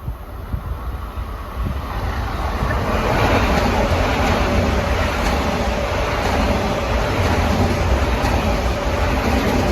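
An LIRR train, number 158 running New York to Babylon, rolls past at Valley Stream as a steady, broad roar that stays loud across the whole stretch, with heavy wind buffeting the microphone throughout.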